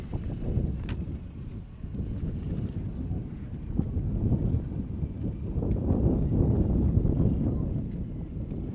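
Steady rushing wind noise buffets the microphone, swelling into stronger gusts toward the end, with faint rustling and occasional clicks in the background.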